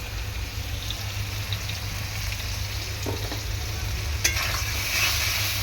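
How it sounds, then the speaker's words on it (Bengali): Turmeric and chili powder being stirred and fried with pieces of silver carp and eggplant in a pan, a steady close sizzle under a low hum, with a few clinks of the spoon near the end. "ভালো করে এরকমভাবে কষিয়ে নেব"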